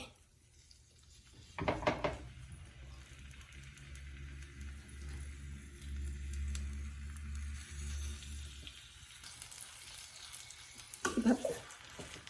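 Leaf-wrapped hilsa patori sizzles faintly and steadily in a clay pan, with brief clattering bursts near the start and end.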